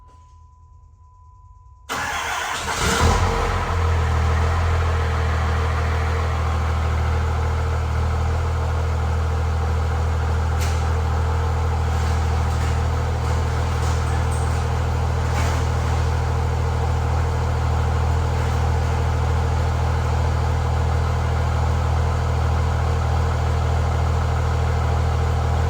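A turbocharged race car engine cranks briefly and catches after a couple of seconds, then settles into a loud, steady, deep-toned running note that holds unchanged to the end.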